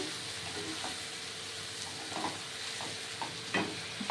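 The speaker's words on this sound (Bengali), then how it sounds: "এই মাছ এবার কষানো হবে, দেখছেন?" Prawns with their shells on are sautéed in a pan for a Bengali Jamai Shashthi dish, giving a steady soft sizzle with occasional stirring scrapes and light clicks close by, without any talking.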